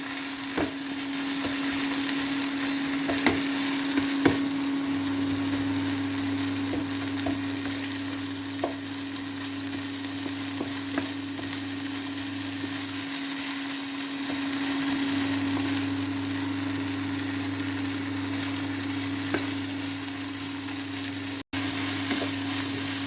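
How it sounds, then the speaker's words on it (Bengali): Ginger garlic paste and browned onion being stirred as they fry in a kitchen pan, a sustained close sizzle with scattered scraping and tapping from the stirring, and a steady low hum throughout. "এবার এটাকে নাড়ি চালিয়ে নিতে হবে"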